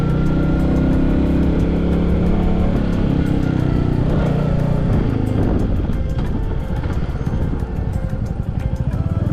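A motorcycle ride on roads near Manali: a loud, continuous engine drone with wind rush, steady throughout and close to the rider.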